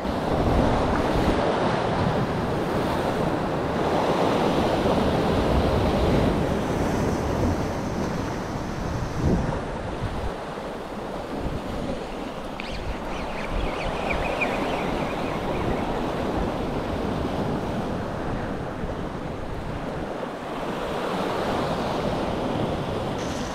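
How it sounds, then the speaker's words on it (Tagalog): Choppy sea waves around a small fishing boat out on open water, a continuous loud roar of surf and splashing with heavy wind buffeting the microphone throughout, no voices. "kahit na medyo maalon"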